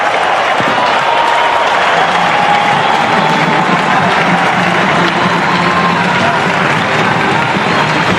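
Loud cricket crowd at Adelaide roaring and applauding a huge six in a one-day international, a sustained wall of cheering, clapping and shouting that holds steady throughout.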